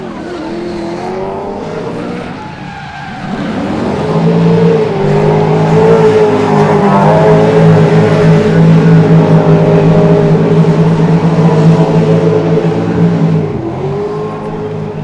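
Race cars at full throttle on the Sochi circuit during RDS GP Round 4 qualifying, engines droning loud and close, rising into a sustained high roar with tire squeal, no talk.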